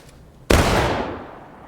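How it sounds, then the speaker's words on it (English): Musket volley from a 17th MI infantry line in a video game: one sharp, simultaneous blast that rolls out into a long, fading echo, heard on its own. "as soon as you fired, get your reload in"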